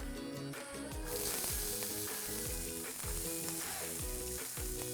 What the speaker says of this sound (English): I'm going to start by sauteing the onions.